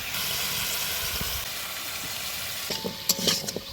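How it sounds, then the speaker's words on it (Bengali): Raw pumpkin and other vegetables are stirred in a hot pan with salt and turmeric for a village-style vegetarian sour dish. A steady sizzle runs throughout, and scraping stir strokes come in near the end. "ভালো করে নাড়িয়ে নিব"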